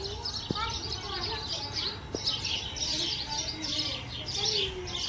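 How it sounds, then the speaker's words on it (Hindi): Repeated high bird chirps and tweets in bursts over steady outdoor background noise, with a few faint distant voices. "तो गाइस चिड़िया कितना प्यारा बोल रही है"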